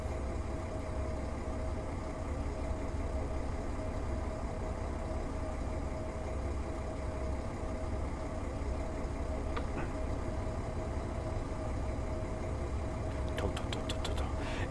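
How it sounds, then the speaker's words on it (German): A Stadler RS 1 diesel railcar engine runs steadily on the Rodachtalbahn, a continuous, even drone heard from inside at moderate volume, with a few faint clicks near the end. "der Motorsound ist geil"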